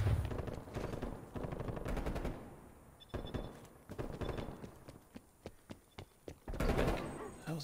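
Gunfire in the Black Ops Cold War shooter: a loud burst of rapid automatic fire opens, then scattered single shots and short bursts crack at a steady pace, ending in another dense volley, with no voices.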